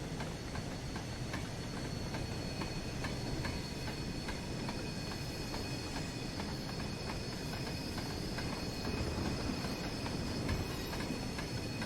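Steam locomotive shunting wagons on a siding in Train Sim World 3, a continuous rolling rumble with faint rhythmic wheel clicks and a thin high whine, steady and moderately loud with no talk.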